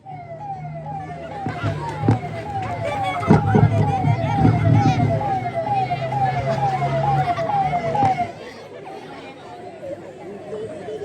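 An ambulance siren wails in a rapid, repeating rise-and-fall pattern, loud and close, mixed with crowd chatter and voices that carry on after the siren stops.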